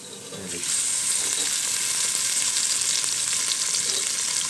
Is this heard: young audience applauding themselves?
no